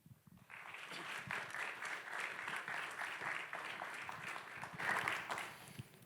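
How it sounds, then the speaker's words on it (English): A conference audience applauds as the first speaker, a Zircuit co-founder, is welcomed on stage at Pragma San Francisco; steady clapping from many hands fills the room at moderate level for several seconds. "please join me in giving a massive round of applause to our first speaker"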